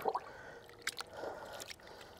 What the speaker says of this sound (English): Squeeze some of the solution out where it's barely dripping.